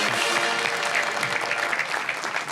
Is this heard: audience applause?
yes